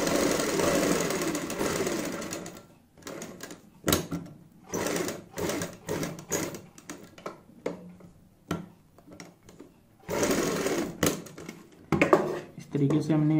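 A sewing machine stitches a garment neckline together with buckram, running in loud bursts of rapid mechanical chatter broken by short pauses, close and dominant.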